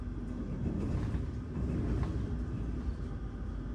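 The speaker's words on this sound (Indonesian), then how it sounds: "Wih, ada kereta apa nih? Kereta Serayu." A steady low rumble of the Serayu passenger train rolling past nearby in Indonesia, continuous and even throughout without horn or pauses.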